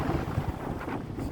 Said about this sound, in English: The wind is so crazy here.